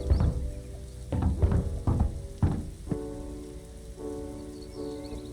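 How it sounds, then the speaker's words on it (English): Rain in the Roblox game A Desert falls steadily as a broad hiss, with a few sharper bursts of heavier drops early on before it settles into an even wash. "Rain begins, along with raindrops and lightning effects."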